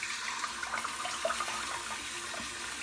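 Tap water runs steadily onto a synthetic-knot shaving brush as it is wetted before a shave, a soft continuous splashing hiss at low volume.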